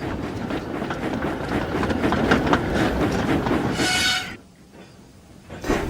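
A train rumbles along steadily with rhythmic clattering of wheels on rails, then the noise drops away abruptly near the end.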